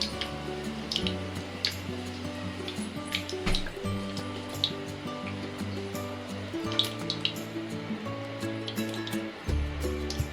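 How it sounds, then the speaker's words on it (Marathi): Mustard seeds pop and splutter in a ladle of hot oil in a pan for bread vada, a steady run of sharp little crackles and ticks over a low background hum, close by with no talking. "आपली राई चांगली फुटत आहे, सगळे वरती आलेले आहेत."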